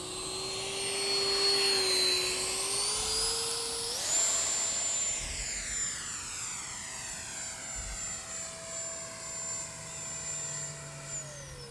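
An E-flite Viper 64mm electric ducted-fan model jet makes a strong, steady turbine-like whine that rises in pitch and then holds high as it passes by in flight, fairly loud at first and fading gradually, with no voices.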